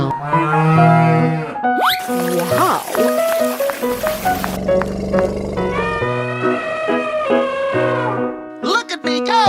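A cartoon cow gives a drawn-out, bright moo in a children's animal cartoon, heard loud over a busy music bed with springy sound effects, nested in a quick run of animal calls.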